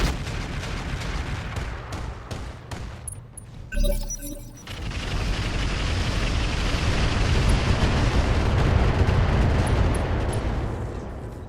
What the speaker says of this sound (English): Alright, Hellstorm Artillery, meet Roughneck.